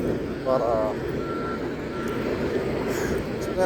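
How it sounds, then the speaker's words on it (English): A tanker truck backs up at a fuel island, its steady backup beeps sounding over a constant rumble of idling trucks, with a voice speaking briefly near the start. "tankers backing up with trucks coming"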